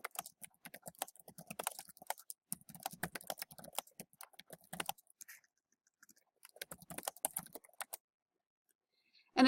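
Someone types a question on a computer keyboard in quick bursts of light, close key clicks, with a short pause before a final flurry of taps.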